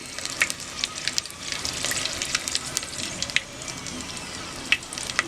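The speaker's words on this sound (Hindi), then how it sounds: "ज़ीरे को भी 10 सेकंड तक सौते कर लेंगे।" Cumin seeds crackle and sizzle in hot oil alongside red chillies, with sharp pops over a steady frying hiss, close and moderately loud, with no talking.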